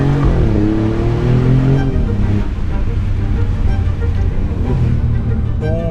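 Alfa Romeo Giulia Quadrifoglio's 2.9-litre twin-turbo V6 revving through its exhaust, a loud, continuous throaty engine roar that rises and falls in pitch over several seconds, close by.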